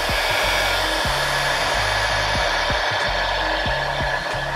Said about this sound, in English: Then I use a little heat gun.